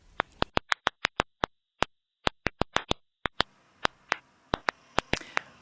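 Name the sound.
stressed unhappy plant clicks, ultrasound recording pitched down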